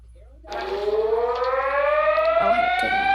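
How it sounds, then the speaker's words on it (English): An Emergency Alert System siren wails in with a rising, sustained tone that starts abruptly and holds loud and steady, with faint voices underneath. "But it just sounds like a normal EAS alarm."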